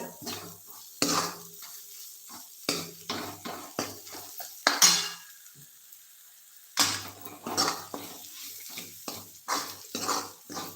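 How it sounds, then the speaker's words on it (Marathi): Tempering of chilli powder and spices in hot oil for a peanut aamti, with intermittent bursts of sizzle, clinks of a spoon against the pan, and a quieter stretch midway. "मस्त खमंग फोडणी करून घ्यायची आहे"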